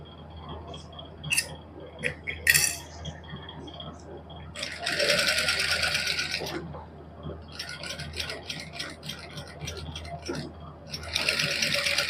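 A simple domestic sewing machine stitching a neck design runs in several short bursts of rapid mechanical chatter separated by pauses, with small clicks and handling noises between runs.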